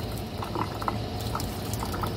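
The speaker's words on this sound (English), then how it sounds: "So what you do is you just add more hot water to it." Hot water being added to a pot for processing, a soft continuous bubbling and gurgling wash of liquid with light splashy flecks, close and steady, no voices.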